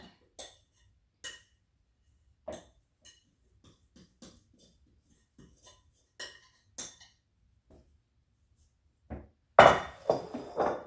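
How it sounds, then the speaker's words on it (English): Sharp, sporadic knocks and clanks sound as bread dough is tapped off a metal stand-mixer whisk, spaced apart in a quiet room, ending in a louder cluster of rattling hits. "I'm just trying to get this dough off of this whisk"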